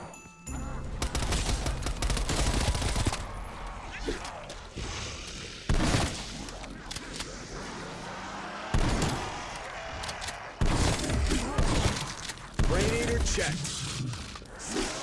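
Rapid gunfire from the Hauer weapon in Call of Duty Black Ops Cold War Zombies comes in loud repeated bursts separated by brief gaps, with mechanical clatter and impacts between them.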